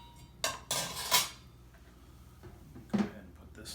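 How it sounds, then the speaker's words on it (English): A lid handled and set onto a container of juneberry wine, producing a few sharp clattering knocks and scrapes close by, then a softer tap a couple of seconds later. "Go ahead and put this lid on."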